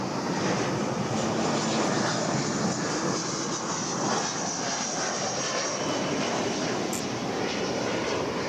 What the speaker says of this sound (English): American Flight 2766 just coming in from, where'd it go?